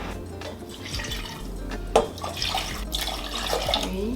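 Water runs and splashes into a cooking pot on a kitchen stovetop, seven cups measured out for a ginger kombucha brew, giving a close, continuous pour with drips and small splashes.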